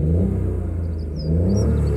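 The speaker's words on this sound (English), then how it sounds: "so you can blip it like that on the way down, or louder" Car engine blipped with a quick stab of throttle, a short mid-pitched rev rising and falling, then another brief surge, close and loud with no talk.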